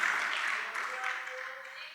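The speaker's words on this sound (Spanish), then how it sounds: "Démosle un aplauso a ese Cristo maravilloso" A church congregation applauds with a dense wash of clapping that slowly fades, while a voice speaks over it.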